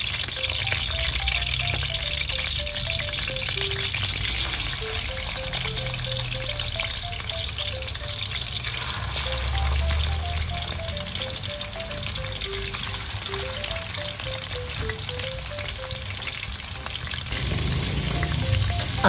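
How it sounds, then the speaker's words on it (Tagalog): Chicken liver pan-fries gently in cooking oil, giving a continuous soft sizzle and crackle that stays even and close throughout, with faint tonal sounds in the background. "Tapos i-pan fry muna natin yung chicken liver."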